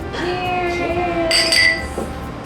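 Glasses clink together in a celebratory toast at a home dinner over homemade rice, a bright ringing clink rising briefly amid casual talk and chatter from people at the table.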